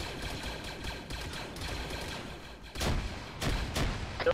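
Explosions and gunfire from the military shooter Arma III, several loud broadband blasts clustered mid-clip over a steady crackle of distant battle noise.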